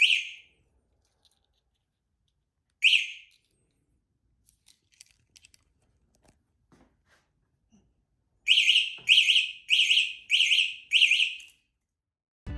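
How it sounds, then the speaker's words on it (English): Alarm on a Wing Freedom Fatty 2 electric bike arming and disarming: two single high electronic chirps, then a rapid run of six loud beeps, with quiet handling clicks between and no talking. "This is how it sounds when it's disarming and arming."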